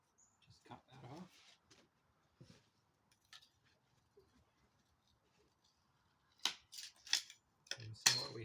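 A branch being snipped off a large collected plum bonsai, with a few sharp scissor-like cuts clustered near the end amid quiet handling sounds, and someone speaking softly earlier.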